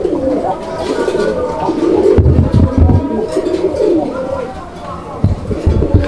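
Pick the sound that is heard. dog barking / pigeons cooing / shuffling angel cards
pigeons cooing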